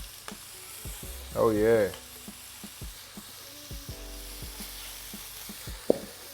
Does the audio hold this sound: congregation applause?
no